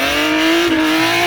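A drift car slides in second gear, a loud, sustained engine tone with tire noise holding a steady pitch, briefly dipping midway before continuing.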